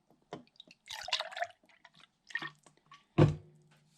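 Beer and lime cordial are poured by hand into a glass mug in an off-grid wilderness cabin, making close, uneven glugs, drips and splashes with short pauses and a gurgle near the end.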